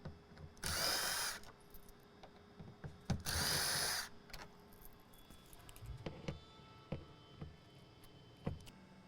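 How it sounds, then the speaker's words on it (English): An impact driver loosening Torx 15 bolts on the intake cover of a 2020 Corvette C8 Stingray 6.2L: two loud, close bursts of whirring hammering, followed by quieter clicks and taps as bolts are handled. "So a bunch more Torx 15s. I highly recommend at least loosen them with an impact."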